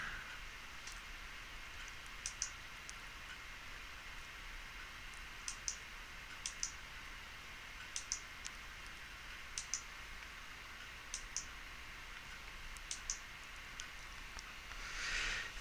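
A computer mouse gives sharp, faint clicks in small scattered clusters over a quiet background hiss, while someone edits an image in GIMP on a computer.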